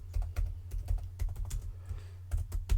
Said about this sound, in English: I'm just typing stuff here.